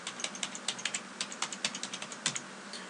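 An administrator password is typed on a computer keyboard, a quick run of about twenty light key clicks at an uneven pace, close and fairly quiet, with no voices.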